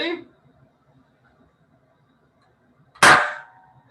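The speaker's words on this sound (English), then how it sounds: "And now you heard a bang." A single sharp bang of a hydrogen and oxygen mixture burning rings out after a stretch of near silence, loud and close, with a brief fading tail; a short voice sound comes at the start.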